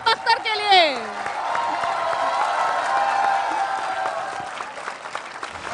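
A television studio audience welcomes former Pakistani fast bowler Shoaib Akhtar on a cricket show; a voice calls out briefly at the start, then loud sustained applause and cheering with a few whoops fill the rest.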